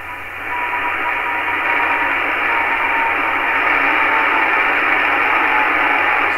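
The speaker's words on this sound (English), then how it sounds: "That's the beacon of XW2D." Amateur radio satellite XW2D sending its Morse beacon, thin keyed tones barely showing through a constant wash of radio static over several seconds, with no voices.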